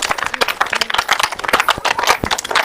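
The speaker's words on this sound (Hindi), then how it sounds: "ये ताली बजाना बहुत बड़ा योग है।" A group of people clapping hands hard and fast at a yoga session, dense irregular claps continuing throughout at steady loudness.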